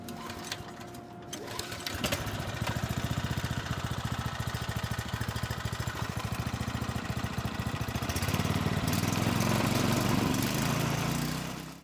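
A small engine on a student-built competition vehicle, mounted on a 90-degree bevel block, cranks briefly, then catches and runs with a rapid, steady mechanical chatter close by. It grows louder and rougher near the end, with no talk.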